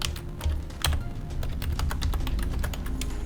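Typing a search query on a computer keyboard, with rapid, irregular key clicks and taps continuing steadily and close by, with no speech over them.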